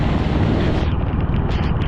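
Strong wind buffets the microphone during a motorbike ride in heavy rain on a trip from Mumbai to Bhimashankar, a loud, continuous roar with no let-up.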